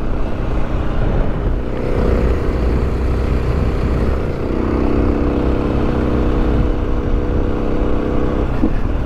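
A KTM 450 EXC motorcycle ridden hard, with a loud, close, continuous engine drone that shifts pitch partway through as the rider changes into fourth gear, wind rumble throughout.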